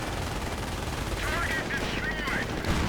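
Gunfire from grenadier infantry in a World War II strategy game battle against a Sherman tank, heard as a steady crackle of shots under a loud, busy battle din.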